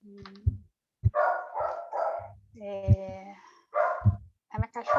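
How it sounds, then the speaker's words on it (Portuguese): Pet dog barking, several loud sharp barks and yips close by in bursts, with someone talking in between and under them. "A minha cachorra adora pegar o final do evento e fazer mais estardalhaço"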